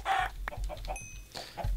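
Blocky Minecraft chickens cluck in quick short bursts, a few close, sharp clucks scattered over a quiet background with brief game sound effects.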